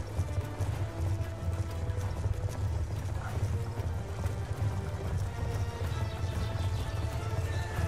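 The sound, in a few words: horses galloping in a video game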